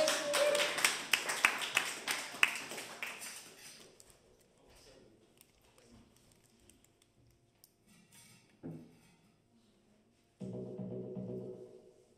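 Applause and cheering from a small audience for a performer at an EMOM electronic music night in Birmingham, loud clapping that fades out over about four seconds, followed by quiet room noise, a brief knock and then a steady hum.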